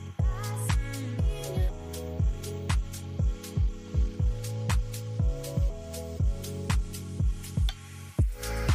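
A sewing machine stitches a newborn baby's kantha quilt with a throbbing, humming motor that pulses in a steady repeated rhythm, close and fairly loud throughout.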